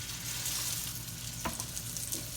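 Hamburger steaks searing in hot oil in a skillet, a steady, fairly quiet hissing sizzle with one brief clack of a utensil.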